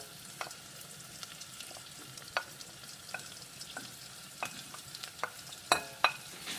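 Minced shallots and the skin of an andouille de Vire sizzle gently in melted butter in a saucepan as a utensil stirs them, with soft scrapes and a few sharper taps over a quiet, steady frying hiss.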